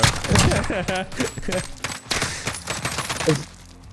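Rapid bursts of video game gunfire rattle out in several clusters, loud and close, with a player talking and laughing over the shots.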